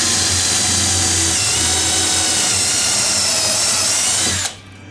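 Electric drill set to high speed runs continuously into wood in a woodworking shop, a loud steady high-pitched whine that holds for over four seconds and then cuts off abruptly.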